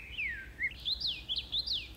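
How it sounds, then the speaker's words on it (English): A small bird on Tree Island, a patch of fir forest, gives a quick series of thin, rising and falling whistled chirps at close range over a low steady breeze. "look at this cute little bird"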